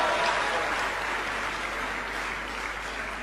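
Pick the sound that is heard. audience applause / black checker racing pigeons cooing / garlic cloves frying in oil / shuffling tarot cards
audience applause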